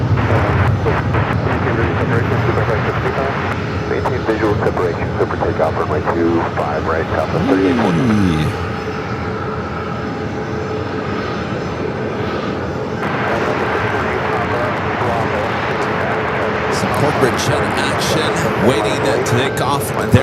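A jet airliner takes off on runway 25 left at Phoenix Sky Harbor airport, its engine roar loud and steady throughout, with a rising whine partway through and faint radio chatter beneath.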